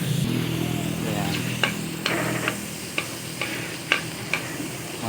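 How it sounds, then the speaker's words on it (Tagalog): Garlic sautéing in a pan while making mongo, a steady oily sizzle with light spoon taps and stirring clicks scattered through it, close and continuous. "itatabi lang natin yan para magisa naman tayo ng bawang"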